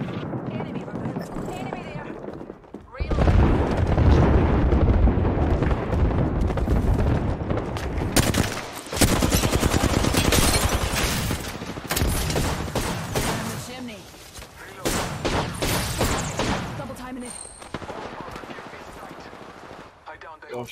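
Rapid gunfire from Apex Legends, including a 30-30 Repeater, crackles in loud sustained bursts with brief pauses, mixed with game effects and a voice speaking over the action.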